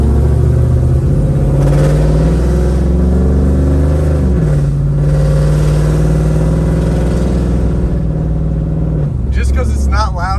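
Heard from inside the cabin, a 500 hp Pontiac Trans Am WS6 accelerates on a highway. The loud, steady engine drone climbs in pitch, breaks at two gear shifts, and climbs again.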